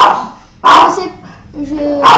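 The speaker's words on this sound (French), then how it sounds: "Le chien." A dog barks indoors in a few sharp bursts over a noisy room, while people talk around a card game of Exploding Kittens.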